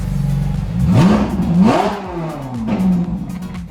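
A Ferrari engine revs loudly close by, its pitch climbing and falling through several throttle blips over a steady, rumbling idle.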